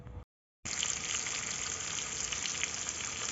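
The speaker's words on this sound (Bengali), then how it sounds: "আলুগুলোকে ভালো করে ভেজে নিচ্ছি, লাল লাল করে ভেজে তুলব।" Potatoes with salt and turmeric frying in a pan for a chicken curry, a steady bright sizzle that cuts out briefly near the start and then resumes at an even, moderate level.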